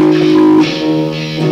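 Guitar riff played through a K fuzz tone pedal, a loud, buzzy sustained distorted tone with rich harmonics and a brief pitch shift, close and alone.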